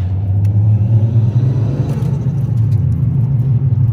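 A steady, low engine rumble heard from inside a Nissan Skyline R34 with a turbo-converted RB25DE while driving, loud and continuous with no voices.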